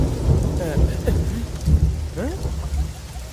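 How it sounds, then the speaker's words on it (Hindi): Steady rain with rumbling thunder in a South Indian action thriller film dubbed in Hindi, a low continuous wash with deep rolls, briefly overlaid by faint voice-like tonal sweeps. "ओह, ये तो बारिश हो रही है।"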